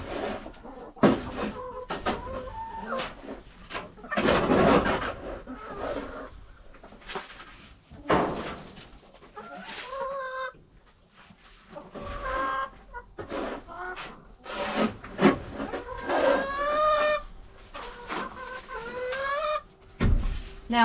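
Hens cluck and squawk close by in bursts while woodchips are spread in their run, with rising calls and short pauses between; no talking.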